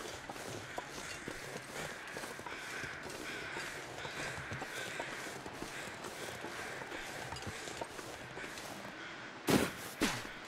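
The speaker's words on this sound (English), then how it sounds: "Sounds like there's more crows," Crows cawing in the survival video game The Long Dark, scattered calls over a steady wind-like ambience, with a couple of louder knocks near the end.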